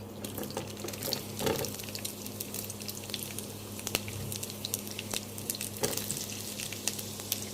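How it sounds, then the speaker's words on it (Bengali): Chopped onion sizzles in hot mustard oil, a faint continuous crackle with a few louder pops and a low steady hum underneath, with no voices. "তেলটা গরম হতে শুরু করেছে, এখন আমি দিয়ে দিব পেঁয়াজ কুচি"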